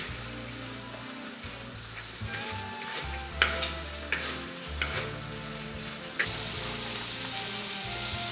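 Carrots fry with browned meat in a pot for Bukharian Jewish plov, a steady fatty sizzle punctuated by several sharp stirring clatters and scrapes, fairly close and without talk.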